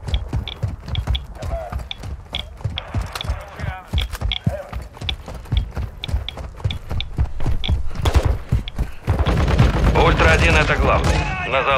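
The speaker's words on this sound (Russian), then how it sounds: "По мне ведут огонь!" Gunfire in Warzone 2 DMZ: rapid, evenly spaced shots crack at moderate loudness for most of the stretch, then a louder, denser burst of combat noise takes over near the end.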